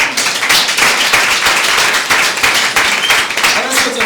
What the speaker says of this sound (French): Je veux qu'on acclame pour lui.